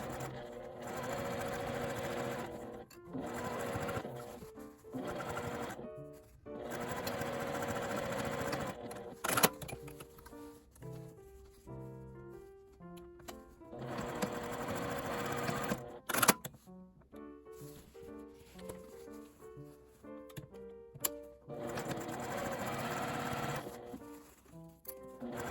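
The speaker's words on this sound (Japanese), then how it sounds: "返し口のある方は返し口を開けて1センチの縫い代で縫います。" A home sewing machine stitches a 1 cm seam allowance on a lined tote bag made from IKEA fabric, running in several bursts of rapid mechanical chattering with short pauses and slower clicking stretches between runs, close and without talk.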